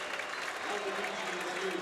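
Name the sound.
crowd applause at a hockey game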